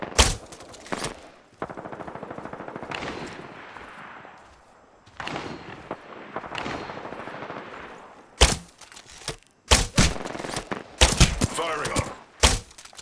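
Gunfire in the Apex Legends video game: sharp bursts of automatic fire and single loud shots in irregular clusters, close and punchy, with stretches of game noise between volleys.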